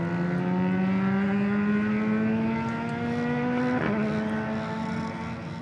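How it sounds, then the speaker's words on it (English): A mini cup racing motorcycle engine revs up loudly at a racetrack, with a steady rising whine that drops sharply near the end and then continues. "Hear them revving their bike up, Jamie."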